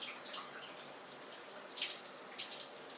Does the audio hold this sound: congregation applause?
no